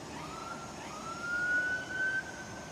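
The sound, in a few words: police patrol siren outside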